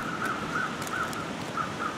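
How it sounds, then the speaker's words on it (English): Crows in The Long Dark, out near a highway at Desolation Point as the wind picks up, give several faint, distant caws spaced across a steady background of wind noise. "I still hear crows, so"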